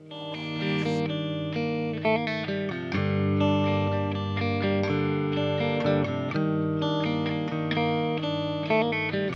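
An electric guitar plays sustained, distorted chords and notes through effects, loud and continuous, with no voices.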